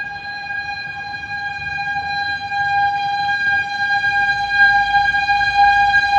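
A fire truck siren holds a steady, piercing tone with strong overtones, loud and constant throughout, over a rumble of traffic that grows slightly louder.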